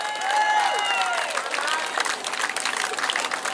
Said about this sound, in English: Give Martin a massive cheer.